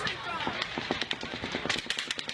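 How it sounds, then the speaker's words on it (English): Rapid, irregular gunshots from several guns crackle and overlap at a distance, uneven rather than a steady automatic rhythm, with speech faintly underneath. "That's overlapping gunfire. It's not automatic."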